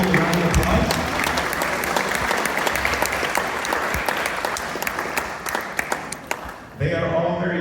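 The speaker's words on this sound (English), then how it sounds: "So let's welcome them all with a round of applause." A school intake audience gives a sustained round of applause to welcome two full-time college counselors, dense steady clapping close and loud throughout before it cuts off abruptly near the end.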